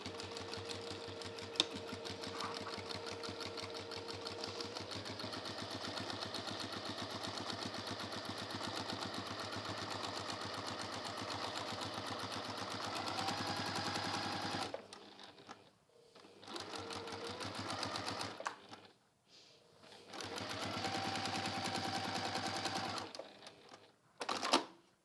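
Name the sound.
sewing machine top stitching a bag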